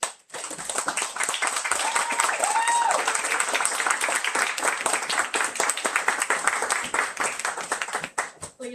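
Audience applause follows a reading at a book launch in Los Angeles, a steady patter of many hands clapping that holds for several seconds before thinning out. A few brief whoops rise over the clapping.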